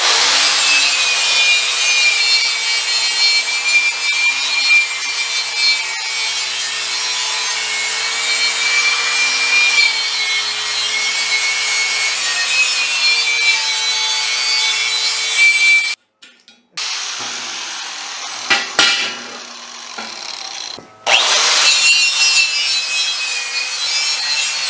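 An angle grinder fitted with a twisted wire wheel scrubs surface rust off metal in a garage, giving a loud, steady, harsh whirring grind that drops out briefly near the end before resuming.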